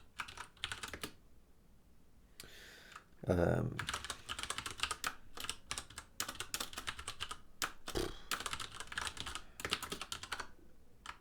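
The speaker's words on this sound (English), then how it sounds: "Typing." A computer keyboard is typed on at a programming desk in quick, uneven bursts of key clicks with short pauses between them, and someone speaks quietly in places.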